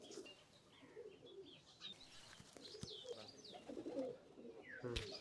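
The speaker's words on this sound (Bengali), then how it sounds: "এটা হইতেছে আরেকটা কবুতর," Racing pigeons cooing in a loft, soft low coos and chirps at close range among scattered wing rustles, with someone talking faintly in the background.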